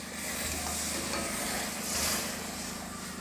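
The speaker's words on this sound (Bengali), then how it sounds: "ঝোলটা আমার ফুটে উঠেছে।" Paneer curry broth made with tomato and water boils in a pan, giving a continuous close bubbling sizzle that swells slightly partway through, with no voices.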